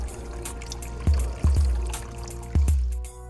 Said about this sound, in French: Videz le réservoir d'eau propre.